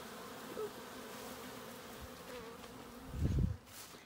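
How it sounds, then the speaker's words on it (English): Honey bees buzz steadily around an overfull hive, a continuous close drone with a louder burst of wingbeats passing near toward the end. "it won't be too much longer until I'm just going to take that thing off completely for Honey's hive"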